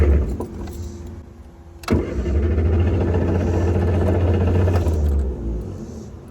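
An old MG car's engine cranks briefly, then catches and starts, settling into a loud, steady idle before the revs ease off.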